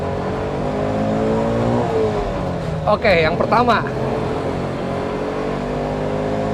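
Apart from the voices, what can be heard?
Bajaj Qute small car accelerating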